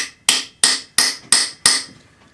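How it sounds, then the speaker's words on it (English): Five sharp metal-on-metal hammer blows drive a doming punch into the end grain of a pine block, each strike ringing briefly with a steady rhythm, close and loud with no talking. "We're going to hammer the punch into the end grain"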